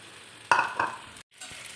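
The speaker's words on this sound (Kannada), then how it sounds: "ರೈಸ್ ಹಾಕಿ ಈಗ ಎಲ್ಲನೂ ನಾನು ನೀಟಾಗಿ ಮಿಕ್ಸ್ ಮಾಡ್ಕೊಂಡಿದ್ದೀನಿ" Street-style veg fried rice being stirred in a hot pan, two loud scraping, sizzling strokes followed by a short pause and a softer sizzle, close and without voices.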